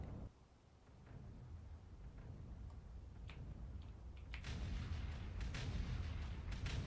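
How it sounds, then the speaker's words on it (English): Artillery fire in the video game Factorio: distant muffled booms and thuds under a constant low rumble, building in intensity toward the end with several sharper blasts. "So mostly artillery with a bit of mustard artillery mixed in."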